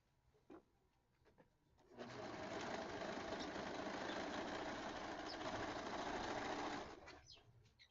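A few faint clicks and taps, then a serger sewing machine runs in one steady, loud whirring burst for about five seconds before stopping, while sewing a quilted jacket.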